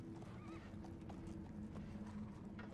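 Horses clip-clop and whinny in a TV drama scene, a steady trot of hooves with a neigh rising over the top, fairly close, with faint background sound and no talk.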